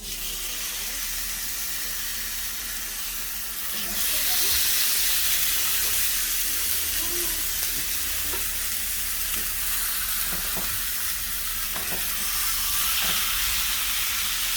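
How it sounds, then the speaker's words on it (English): NY strip steaks searing in a hot pan, a close, loud hissing sizzle that swells as the meat goes down and stays steady, with a few faint clinks. "now we're gonna be putting the steaks on"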